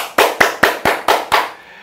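Six sharp, evenly spaced hand claps ring out close and loud in a quick steady rhythm, then stop.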